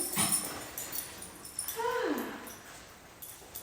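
Two dogs play together, giving off short yips and a rising whimper among scuffling and panting sounds, nearby, with faint background noise.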